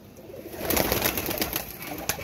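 Lakha pigeons coo softly nearby in a short, murmuring run of throaty notes, with faint rustling around them.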